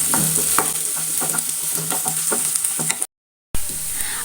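Garlic, ginger and curry leaves sauté in hot oil in a pan, a constant bright sizzle with regular spatula scrapes. The sound is close, then cuts to a brief silence before the frying resumes.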